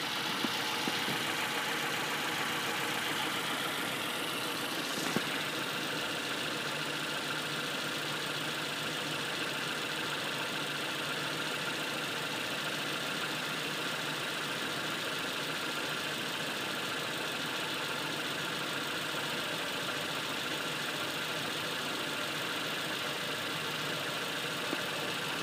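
A 2000 Nissan Altima with a 2.4 engine idles steadily and evenly, a constant close drone with a faint tick and no talking.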